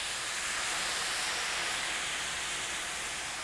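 Chicken broth poured into a hot pan steams and hisses in a steady, loud, broadband sizzle that holds without a break, with no talking.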